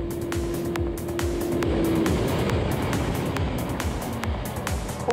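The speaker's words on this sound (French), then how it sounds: "Même passé les 200 km/h, ce 4 cylindres de 1300 cm3 pousse comme une brute sans jamais montrer de signe de fatigue." A first-generation Suzuki Hayabusa 1300cc four-cylinder motorcycle pulls hard at high speed, its engine note droning steadily under heavy wind rush, with intermittent sharp clicks and a brief tonal whine near the start.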